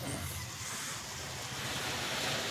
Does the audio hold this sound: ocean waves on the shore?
yes